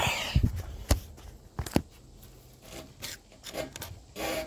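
Rough scraping and rubbing of a heavy timber rafter dragged across a wall top in short bursts, with a few sharp knocks between slides, close by and fairly quiet.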